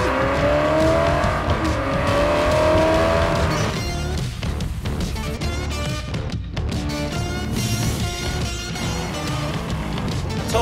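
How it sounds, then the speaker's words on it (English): A car revs hard and pulls away with squealing tires, the engine note rising then fading into a noisy, sustained roar of acceleration with no talk. "You may just drive away and never come back."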